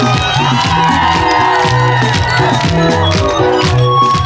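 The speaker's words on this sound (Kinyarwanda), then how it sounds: "Abakunda Imana bayikomera amashyi." A crowd at a religious gathering in Bugendana, Gitega, cheers and shouts loudly for God, a dense, continuous roar of voices with whoops rising throughout.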